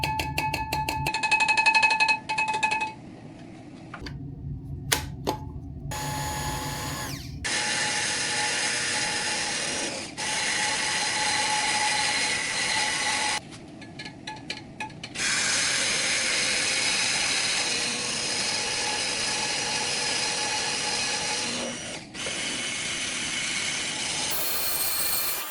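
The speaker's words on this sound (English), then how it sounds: "Use a stick blender to mix for about 10 to 15 minutes until the soap reaches light trace." A stick blender mixing soap batter for a dessert-style Christmas soap, running in long buzzing stretches that stop and start several times, with brief handling knocks between runs.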